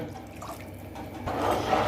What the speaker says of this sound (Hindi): अभी इसमें 1 गिलास पानी और डाल रहे हैं